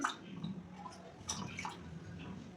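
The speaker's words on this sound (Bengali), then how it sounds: "পুরো জলটা দিয়ে আমি স্নান করিয়ে দিলাম ওকে" Warm water poured over a small Gopal idol during a bath, soft faint splashing and dripping in brief uneven trickles, close by and otherwise quiet.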